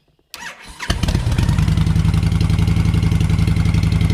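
An engine cranks briefly and catches, then settles into a loud, steady, close-up idle with a rapid even pulse; the engine is fitted with a Cobra 2000 EFI controller.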